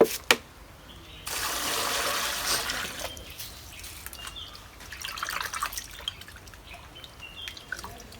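Cut vine yams being washed in water, with a burst of splashing and rinsing, then softer trickles and drips.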